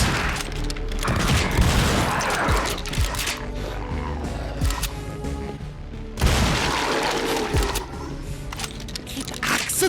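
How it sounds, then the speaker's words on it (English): Gunfire and blasts in the shooter Project Warlock II, with repeated loud bursts and booms clustered at the start and again near the end, busy and continuous with no clear pauses. "Keep accidentally shooting standard humans"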